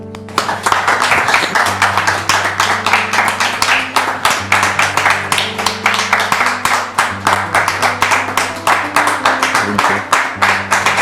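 A French TV studio audience claps steadily to welcome a guest, with dense, even applause running the whole time and a low musical bed underneath.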